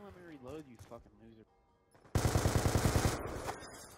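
Gunfire in the Sharpshooter video game: a burst of rapid shots starts halfway through and continues loud to the end, after a stretch of talk.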